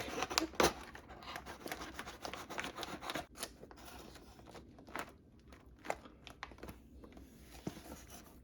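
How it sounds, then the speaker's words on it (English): Knife slicing thick homegrown pearl oyster mushrooms off at the surface of a grow kit, a close run of crunchy, fibrous cutting and tearing sounds that thin out into scattered faint snaps, with no talk. "take a knife and cut it down right at the surface"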